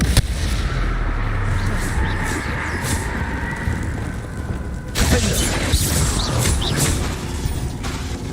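Repeated spell blasts in the Hogwarts Legacy video game, including a bombarding strike, an ice spell and a torture curse, crack and boom over a dense rumbling game soundscape, with a sharp burst near the midpoint.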